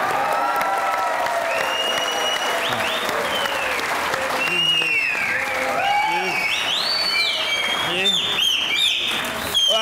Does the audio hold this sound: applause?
yes